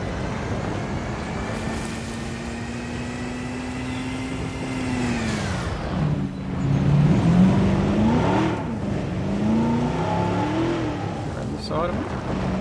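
A jeep driving in Jurassic World Evolution gives a steady engine drone that dips, then rises and revs unevenly as the vehicle repositions, fairly close and prominent.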